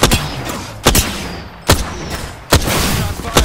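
Gunfire in the Apex Legends shooter game comes as four sharp, loud shots spaced a little under a second apart, each followed by a brief decaying tail, with no talking.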